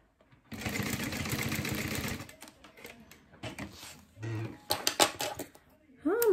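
A sewing machine stitches through a folded fabric organizer in a steady whirring burst of about two seconds, followed by handling clatter and brief spoken talk.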